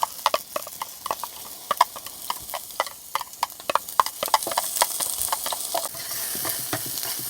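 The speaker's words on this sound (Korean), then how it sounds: "올리브 기름에다가 파." Green onion stir-frying in olive oil at a forest car-camping site, a steady close sizzle broken by frequent sharp clicks and scrapes of a utensil stirring the pan, with no talking.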